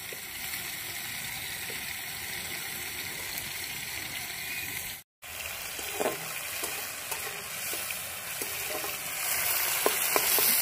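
Prawns fry in a pan with a loud, steady sizzle and crackle, a brief dropout midway, then the spattering hiss swells again with scattered pops and stirring.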